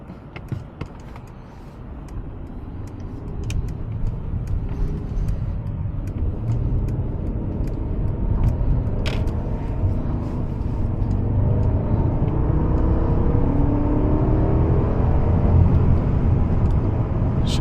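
Mercedes-Maybach S580 being driven along the Pacific Coast Highway, with a steady low road and engine rumble that slowly builds, heard from inside the cabin, with a few faint ticks and no talking.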